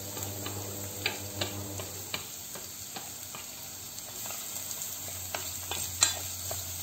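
Onion and garlic sizzle in hot oil, a steady quiet frying hiss broken by small ticks and crackles as the pieces settle and get stirred.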